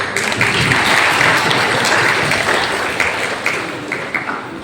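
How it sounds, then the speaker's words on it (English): Loud, sustained audience applause at a Van Mahotsav forest festival closing ceremony, dense clapping from a large crowd filling the whole stretch and easing slightly toward the end. "A huge round of applause for everyone, please."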